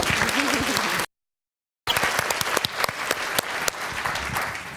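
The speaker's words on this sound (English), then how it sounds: "I think we need a round of applause for the nurses in the room." Audience applause for the nurses at an end-of-life care AGM, steady crowd clapping that breaks off for a moment of silence, then resumes with sharp individual claps, fairly close and moderately loud.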